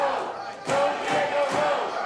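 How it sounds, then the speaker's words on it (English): A wrestling crowd roars and yells in bursts that surge and fade, loud and close throughout. "The crowd is completely behind Diego in this one."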